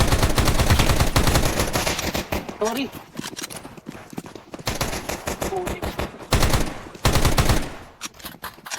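Rapid automatic gunfire in a Counter-Strike 2 match, loud bursts of rattling shots repeating through most of the stretch with short pauses, while players talk over it.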